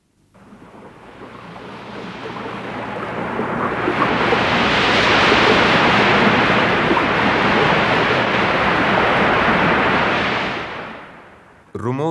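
Heavy pouring rain in a natural outdoor setting, a dense steady roar that swells over the first few seconds, holds loud and continuous, then fades out near the end.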